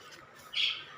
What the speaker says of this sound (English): please ignore the background sound. The birds are, don't know why,